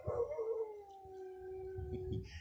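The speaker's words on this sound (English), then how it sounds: "There's my dog. Dog's going mad." A dog howls in one long, sliding wail that falls and then holds steady, fairly close and clear, with faint background noise and a few soft knocks underneath.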